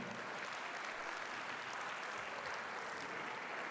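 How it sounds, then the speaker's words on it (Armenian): Sustained applause from wedding guests for the bride and groom at an Armenian wedding, a steady dense wash of clapping that stays even and fairly distant throughout. "Ուզում եմ մի հատ բարձր ծափ հարենք աշխարհի ամենասիրուն զույգի"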